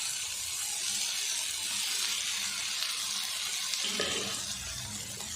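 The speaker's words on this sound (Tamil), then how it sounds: "முள்ளங்கி நல்லா வதக்கி விட்டுருவோம்" Sliced radish sautéing with salt in a pan for Chettinad-style sambar, giving a steady broadband sizzle and hiss throughout, with faint clinks and a stir near the end.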